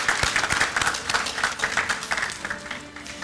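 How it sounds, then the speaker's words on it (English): High school graduates at the Rochester STEM Academy 2017 ceremony clap for their parents and families, a short burst of scattered, fairly close hand claps that thins out toward the end. "would you please give a round of applause to your parents and your families who have supported you all these"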